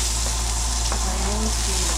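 Chopped onion sautéing in olive oil for spicy adobo, a continuous dense sizzle with a steady low hum from the stove beneath, no talking.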